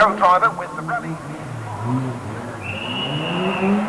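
A Group A Vauxhall Astra GTE rally car, prepared in Milton Keynes, runs a twisty track at Chatsworth House. Its engine drones faintly and revs in the distance beneath a commentator's voice.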